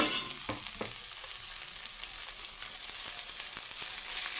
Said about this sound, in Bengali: এখন আমি গ্রেট করা আলুগুলো দিয়ে দিলাম।